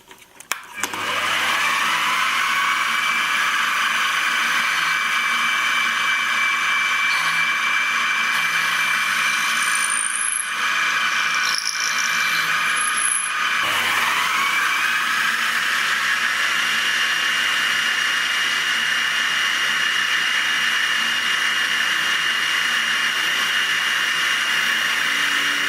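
A power drill bores 5 mm holes in a boat hood support hanger, a loud, continuous, steady whine that runs almost the whole time with a couple of brief pauses near the middle, close up with no talk.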